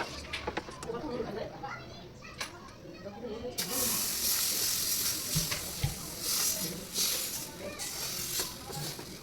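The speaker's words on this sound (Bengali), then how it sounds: "আমি পরোটাটা ভেজে নিচ্ছি সকালে জল খাবারের জন্য" A paratha frying in a pan for breakfast, giving a steady sizzling hiss that grows louder partway through, with a voice talking over it in a home kitchen.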